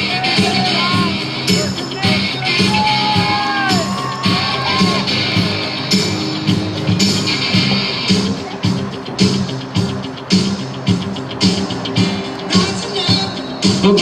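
A crowd at an outdoor track race cheers, whoops and yells continuously, loud and dense, with scattered shouts rising above a steady roar of voices throughout.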